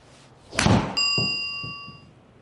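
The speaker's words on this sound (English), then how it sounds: "I'm going to hit a series of 3 to 4 shots with each club" A single golf shot with a Mizuno club head on a steel shaft, a sharp impact followed by a ringing metallic tone that decays over about a second, close and alone.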